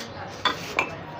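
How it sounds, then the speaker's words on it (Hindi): A glass microwave-safe bowl is handled in a home kitchen, giving two brief, close clinks about a third of a second apart against a steady low background. "ये मेरे पास शीशे का बाउल है"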